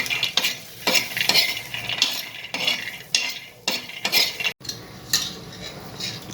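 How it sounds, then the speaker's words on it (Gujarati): Raw peanuts dry-roasting in a pan, stirred in rhythmic bursts of scraping and rattling over a light sizzle, close and fairly loud, with no voices. "હવે આપણે કાચા સિંગદાણા નાખીશું. હવે એને પણ આપણે શેકી લઈશું."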